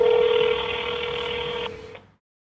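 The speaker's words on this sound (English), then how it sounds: "Now the phone makes an automatic emergency call to the emergency response center and places it on the speakerphone" A Sonim XP3340 Sentinel rugged mobile phone automatically places an emergency call on speakerphone, giving a loud steady electronic dialing tone that holds for about two seconds before cutting off into silence.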